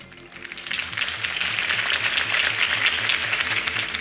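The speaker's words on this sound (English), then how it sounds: "If only Mr. Wayne, my campaign's largest backer, could have heard that applause" Crowd applause at a political campaign rally in the video game Batman: The Telltale Series, a dense steady clapping that continues for several seconds over a low rhythmic music bed.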